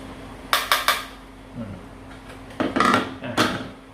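Several light, hollow plastic taps on a Perfect Cell Dragon Ball figure come in short clusters, close by, with quiet pauses between them.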